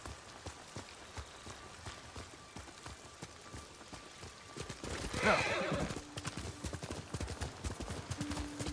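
A horse's hooves clip-clop in the Ghost of Tsushima video game over soft rain, with a brief whinny midway, moderately close and fairly quiet.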